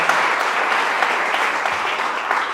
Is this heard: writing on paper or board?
no